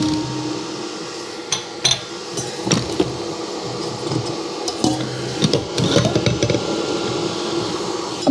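Zacme 8.4 quart stand mixer whisking cream with a huge whisk, a steady motor whir under irregular clinks and rattles of the whisk against the metal bowl, close up with no talk.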